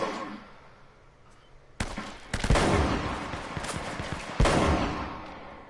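Gunfire in the Uncharted video game bursts in loud, sharp volleys after a quieter lead-in, with several rapid shots crowding together and a final heavy report near the end.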